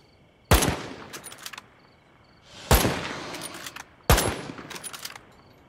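Three separate bursts of gunfire ring out in the zombie survival game State of Decay 2, each a sharp loud crack followed by a few quick shots and a fading tail, with quiet in between.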